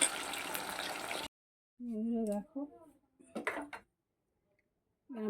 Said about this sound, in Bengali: একসঙ্গে সব ভাজবো না অল্প অল্প করে ভাজবো যাতে গায়ে জড়িয়ে না যায়